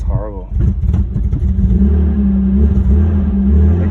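A Nissan R31 car with newly installed DGR coilovers runs close by, its rough engine revving and holding a loud, uneven drone while someone talks excitedly over it.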